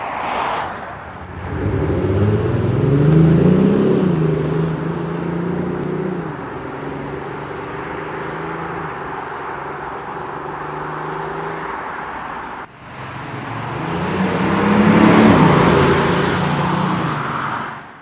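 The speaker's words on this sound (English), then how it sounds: "I bet you've never heard a diesel doing a flyby up there" Audi S4 TDI diesel car does a flyby, its engine swelling as it approaches and accelerates hard, droning steadily past, then fading before a second loud pass near the end.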